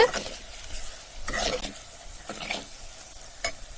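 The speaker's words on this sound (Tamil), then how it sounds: "இந்த எண்ணெயிலே வதக்கும் போது கொஞ்சம் நல்ல நிறம் கிடைக்கும்." Chili powder frying in oil in a pan while being stirred for a Tamil sundakkai vathal kuzhambu, with a soft steady sizzle and a few scraping stirs in bursts, heard up close without talk.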